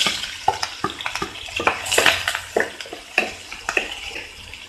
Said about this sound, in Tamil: வெங்காயம் தக்காளியும் நல்லா வதங்கணும், அது வரைக்கும் நல்லா வதக்கிக்கலாம்